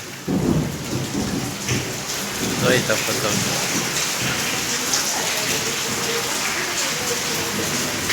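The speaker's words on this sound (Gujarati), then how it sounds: "વરસાદ ફૂલ છે. વરસાદની સાથે કડાકા અને વીજળી પણ છે." An unseasonal summer rainstorm in Gir Somnath district beats down steadily beside a haveli while low thunder rolls and rumbles through it; someone speaks briefly over the downpour.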